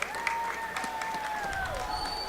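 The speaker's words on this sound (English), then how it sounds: "As the clock hits triple zeros, an ovation from the visiting New Mexico crowd" Visiting New Mexico fans give an ovation as time expires in a women's D1 ACHA college ice hockey game at Colorado, steady applause and cheering filling the arena while a high whistle-like tone slides down.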